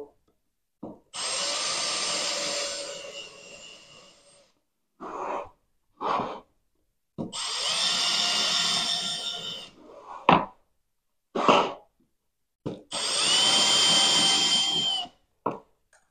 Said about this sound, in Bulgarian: Правите това нещо на всички места, където са маркирани за пробиване и фрезоване с зенкера.